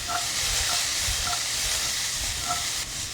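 Peppers hit hot olive oil in a pan and sizzle with a loud, steady, close hiss that softens slightly at the very end.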